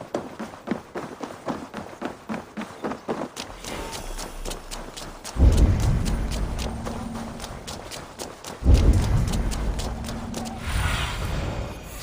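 Horses' hooves clip-clop in a steady rhythm in the video game Assassin's Creed Valhalla, quickening into a heavier gallop with rumbling movement noise, close and fairly loud with no talk.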